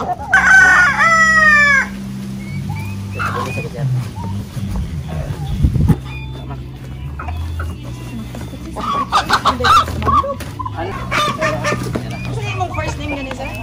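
Rhode Island chickens and roosters at a poultry farm crow and cluck loudly nearby, with a strong rooster crow at the start, then scattered clucks and further crowing through the stretch.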